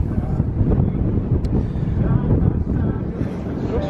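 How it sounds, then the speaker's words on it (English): Strong wind roars steadily across the microphone on open water off Clearwater Beach, a constant heavy rush with faint voices buried beneath it. "And it's super windy, super windy."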